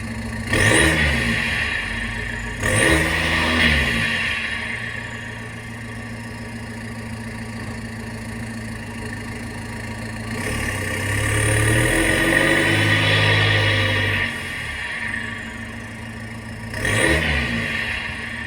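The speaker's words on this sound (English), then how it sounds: "I'm just going to get in the car and rev it up a little bit." A Volkswagen TDI 2.0 turbo diesel (CKRA) with a tune, emissions delete and aftermarket pipe revs in several short bursts from a low idle, each rise and fall fairly close and moderately loud, with a longer sustained rev in the middle.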